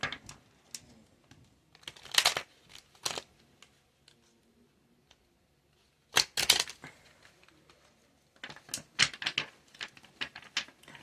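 Tarot cards shuffled by hand in bursts, with crisp riffling flurries around the start, middle and end separated by quieter pauses and faint handling noise, close and fairly loud.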